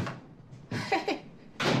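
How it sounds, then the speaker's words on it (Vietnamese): A door opens in a domestic scene from a Chinese drama, heard as a few close knocks and clunks of handle and frame, ending in a louder thud. "Anh mở cửa cho em."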